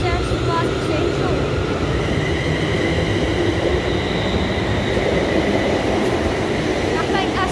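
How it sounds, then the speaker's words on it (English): A ScotRail Class 380 electric train pulls out of Paisley Gilmour Street station, its steady rumble and rolling wheel noise filling the whole span without pause, close and fairly loud, with faint high squeals over the top. "Departing now, we've got a 380-009 ScotRail service to Glasgow Central."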